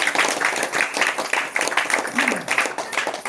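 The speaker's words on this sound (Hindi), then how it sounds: "जोर से ताली बजाओ।" Congregation at a Hindi Christian worship service clapping loudly, a dense rapid patter of many hands continuing steadily and close throughout.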